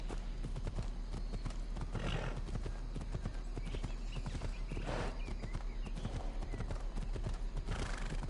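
A horse gallops with rapid, rhythmic hoofbeats in the video game Assassin's Creed Odyssey, steady and close, with a couple of whinnies and a voice talking faintly underneath.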